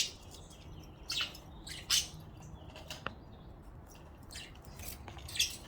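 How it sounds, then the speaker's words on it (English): Wild birds outdoors give scattered short chirps and squawks, several brief calls spaced a second or so apart over quiet morning background noise, fairly faint and with no speech. "You guys are gonna hear somebody else, some other birds."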